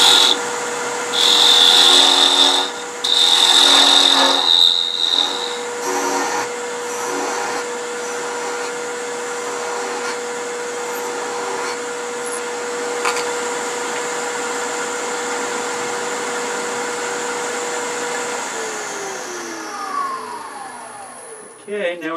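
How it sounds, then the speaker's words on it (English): A wood lathe whirs steadily while a skew chisel peels into spinning wood for a chess piece, with shrill cutting bursts early on, then a long, even machine hum. "Fast way to prepare something small down, peel and cut with a skew."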